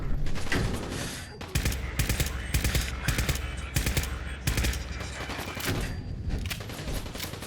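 Rapid combat rifle fire in Fallout 4, a steady run of close, loud automatic-sounding shots repeating almost without pause.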